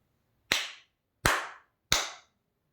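Three crisp, loud hand claps close by, evenly spaced with brief silences between them.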